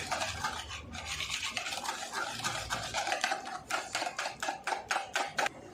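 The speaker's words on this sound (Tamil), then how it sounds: "இப்போ இது எல்லாத்தையும் நல்லா மிக்ஸ் பண்ணிக்கலாம்" A spoon stirs cake batter in a bowl, scraping and clinking in a steady rhythm that turns into sharp, evenly spaced taps toward the end, close and alone with no talk.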